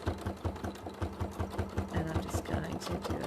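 A sewing machine free-motion quilts along a marked line, running at a steady, rhythmic chugging pace close up for the whole stretch, with a voice faintly under it.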